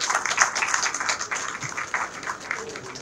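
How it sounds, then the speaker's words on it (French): Assembled attendees at a political meeting applaud a vice-minister, a steady, fairly even roar of many hands clapping at moderate distance throughout. "Si vous pouvez vous lever et vous serez applaudi par l'assistance"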